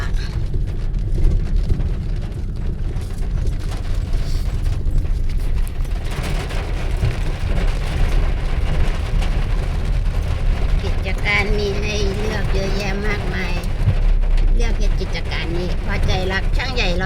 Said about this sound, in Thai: เอาแล้ว ฝนตกจ้ะ